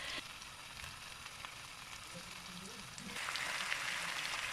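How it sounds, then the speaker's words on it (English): Pieces of beef sear in hot olive oil in a pan for bœuf bourguignon, a steady close sizzle and crackle that grows louder partway through, with no talk. "I'm heating some olive oil and I'm covering the pan with my pieces of lovely beef."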